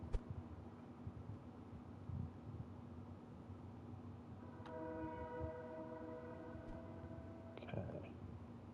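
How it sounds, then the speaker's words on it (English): A train passes outside a room, a faint low rumble with a distant horn sounding partway through, heard under quiet indoor ambience. "Don't mind the train."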